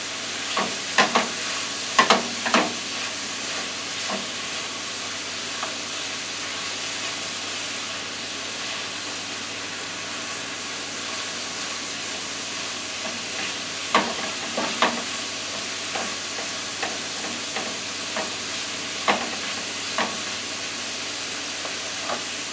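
Peppers, onions and garlic stir-fried in a pan, with a steady loud sizzle and repeated scraping clicks of a utensil stirring them, alone with no talking.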